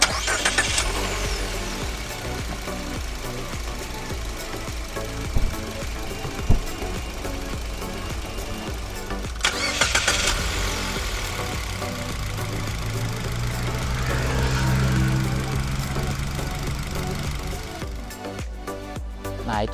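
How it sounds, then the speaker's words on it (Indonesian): A Mitsubishi Xpander engine runs steadily at close range, a continuous mid-pitched mechanical hum and whir with a couple of brief louder swells and a short rise in revs near the end, no talking over it. "Cuma tadi kita sempat coba untuk suara mesin ya."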